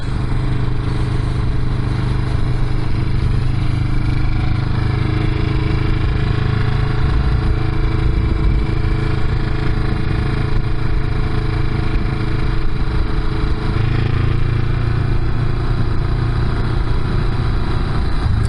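A Honda CB350 motorcycle's exhaust runs loud and raspy with a steady, resonant drone throughout, rising and falling slightly with throttle while riding, no voices.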